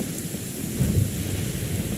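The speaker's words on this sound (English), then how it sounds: "Let us find shelter from the rain." Rain and rolling thunder in a video game, a steady rain hiss with a low rumble swelling briefly near the middle, fairly loud and with no voices.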